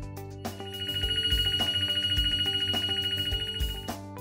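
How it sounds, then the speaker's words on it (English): An oven's finished-baking alert rings out as a bright, melodic electronic chime, a short phrase of repeating tones lasting a few seconds, clear and alone without any talking. "When the baking time has counted down to zero, the baking is finished and you will hear an audible signal."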